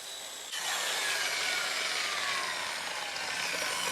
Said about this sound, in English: switched it over to the soft speed polisher with 80 grit to smooth it out the rest of the way